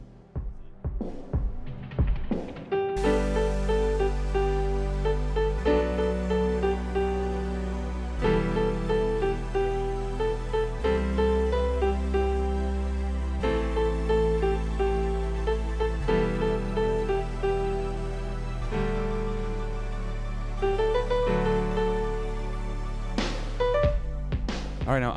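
Solo piano plays an intermediate arrangement of the chorus of a song, with sustained chords over deep bass notes, moderately quiet and unaccompanied.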